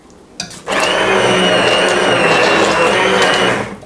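A blender roars loudly and steadily for about three seconds after a brief click, whirring as it purees minestrone soup, then cuts off.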